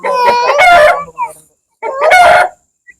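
A rooster crows loudly and close by, two full calls separated by a short pause.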